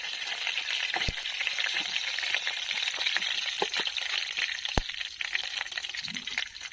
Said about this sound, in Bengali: টপর টপর করে ফুটতেছে